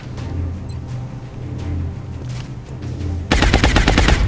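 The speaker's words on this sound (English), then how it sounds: "I want to just try and fuck this guy over with rapid fire" Rapid-fire gunshots in the XCOM: War Within video game, a loud burst of fast repeated shots that abruptly cuts in after a quieter stretch of ambient game noise, with no voices.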